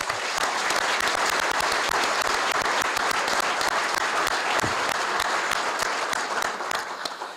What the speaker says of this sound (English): Why don't we just take a minute and give a round of applause to a great man, Dr. Burt Williams.